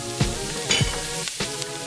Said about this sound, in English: now it's time to start sauteing our vegetables. So now I'm adding our scallions in here.